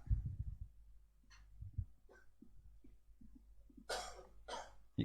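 A few soft coughs, scattered and fairly quiet, with breathy throat sounds and low background rumble in a quiet room.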